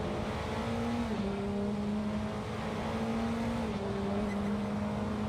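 Steady, loud engine drone from a 2012 original-generation Praga race car lapping Donington in Assetto Corsa, the pitch briefly dropping at shifts before climbing again, with no voices.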